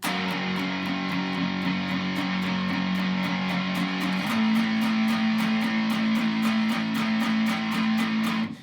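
An electric guitar through a fuzz pedal chugs thick, saturated power chords, holding one chord then shifting to another, while a steady click or hi-hat ticks along on top, with no talking.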